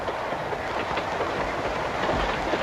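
Train running on rails as a 1934 radio mystery drama effect aboard a private car, a steady rumbling roll with rhythmic clickety-clack over the track joints, continuous and moderately loud without voices.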